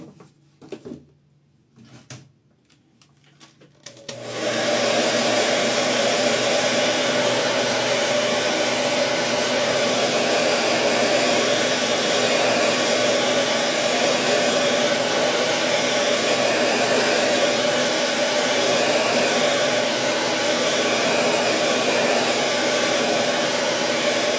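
Hair dryer blowing to dry stencil paint on a decorated tray, switched on after a few seconds of quiet small handling sounds and then running loud and steady without pause.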